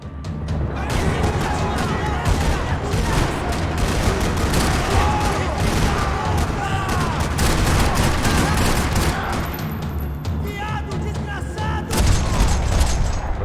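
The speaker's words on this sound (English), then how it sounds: "Another parking lot rattling with gunfire." Rapid bursts of gunfire crackle continuously with booms mixed in across a parking lot in Max Payne 3, dense and loud, under a busy layer of game effects.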